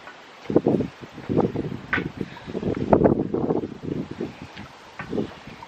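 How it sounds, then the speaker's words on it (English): Gusty wind blows outdoors during rust-paint spraying work, buffeting the microphone in irregular rumbling bursts that rise and fall over several seconds, loud and close. "Oh, the wind."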